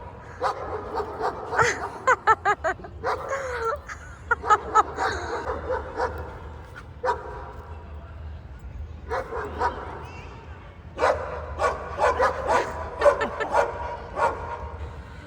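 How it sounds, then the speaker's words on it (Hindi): Several dogs bark and yip in repeated bursts, some near and loud, with pauses between volleys and people talking intermittently underneath. "यहाँ पे भौंक रहे हैं, वो भौंक रहा,"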